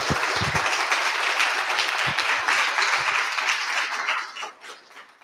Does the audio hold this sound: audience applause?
yes